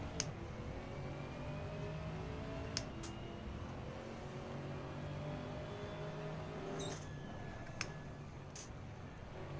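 Race cars from the LMP3 class in the Assetto Corsa racing game pass by, their engines a steady mid-level drone with rising pitch sweeps as they approach, over continuous road and engine noise with a few sharp clicks.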